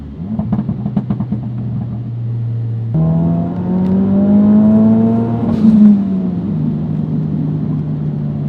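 A Ford Focus RS engine pulls hard from inside the cabin, with a rising harmonic whine that climbs steadily, drops at a shift and climbs again, loud and continuous with no talking.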